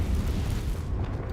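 A Confringo spell explosion in the video game Hogwarts Legacy, a loud, dense rumbling blast that fills the whole short moment without a break.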